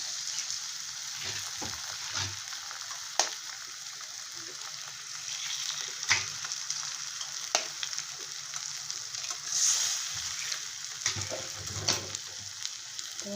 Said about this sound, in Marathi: आता ह्यामध्ये आपण अंडी फोडून टाकूया तीन अंडी टाकणार आहोत